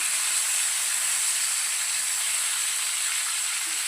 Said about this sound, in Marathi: दोन ते 3 सेकंदात आपल्याला याचे फ्राय करून घ्यायचे.